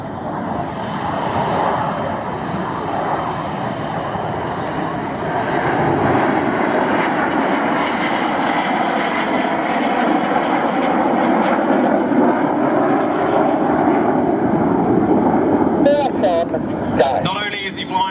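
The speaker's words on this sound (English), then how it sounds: "He's going to fly barrel rolls around Reds 1 and 3 smoke with a continuously changing vector" RAF Red Arrows Hawk jets roar at the Midlands Airfestival as they fly barrel rolls, a broad, sustained distant jet rumble that swells and fades under an announcer's commentary.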